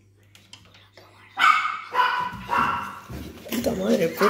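Dog barking inside a house, several loud barks mixed with agitated talk from people nearby.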